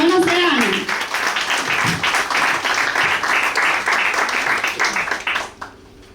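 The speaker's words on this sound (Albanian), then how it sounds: "dua një duartrokitje shumë të fortë për Eltiona Serani." Audience applause at a 28 November conference: dense, sustained clapping from a crowd fills the room for about five seconds, then fades out quickly.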